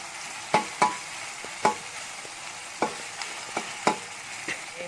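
Salted fish cooking in a pan under a steady sizzle, with several sharp clicks and scrapes of a utensil spaced irregularly over it.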